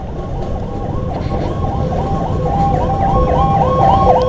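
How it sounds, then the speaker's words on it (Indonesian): Ambulance siren on the road, a fast rising and falling yelp heard over loud, rumbling engine and wind noise from a moving motorcycle. The siren is moderately distant and grows slightly stronger toward the end. "Wah, ada ambulan, ada ambulan."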